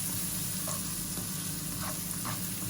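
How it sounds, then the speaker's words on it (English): Shallots and garlic frying in butter in a pan give a steady, close sizzle with faint stirring clicks and no talking. "in go the shallots and the garlic, and toast them around in"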